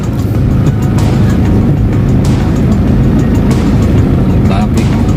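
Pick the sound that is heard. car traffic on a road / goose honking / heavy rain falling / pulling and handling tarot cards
car traffic on a road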